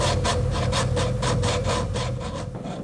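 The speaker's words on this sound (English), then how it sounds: "feeling a wheel of different tactile materials, of different sandpaper grit levels" A fingertip rubbing across sandpaper fixed to a rotating wheel of different grit levels in a tactile experiment setup, a loud, close, continuous rasping scrape with rhythmic pulses as the surface passes, easing slightly toward the end.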